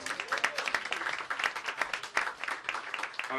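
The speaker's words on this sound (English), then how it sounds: "give yourself a round of applause" Audience applause at a small spoken-word poetry show, a lively patter of many hands at moderate volume with distinct individual claps, continuing for a few seconds without talk.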